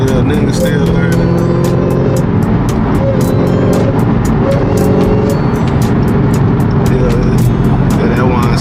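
Dodge Charger Hellcat engine running loud and close, a heavy sustained rumble with rising and falling gear-change tones and a constant dense roar throughout.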